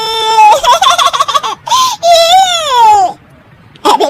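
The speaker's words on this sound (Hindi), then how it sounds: "अरे बेटा, ये बच्चे के रोने की आवाज कहाँ से आ रही है?" A baby's high, wavering wails in a Hindi animated story come in several drawn-out bursts with short breaks between them, loud and close, with no talking.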